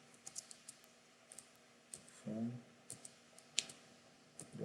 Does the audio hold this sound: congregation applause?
no